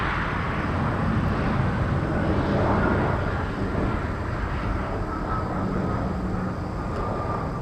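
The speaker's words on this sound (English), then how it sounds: "That was China Southern Airlines off to Dalian" A China Southern Airlines Airbus A321 jet departs Incheon, heading for Dalian: a broad, steady roar of jet engine noise, fairly loud and continuous, with a faint whine running through it and no voices.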